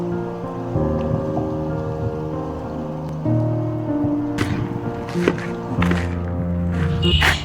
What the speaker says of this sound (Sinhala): මේ වගේ පොඳ වැස්සක් තමයි යන්නේ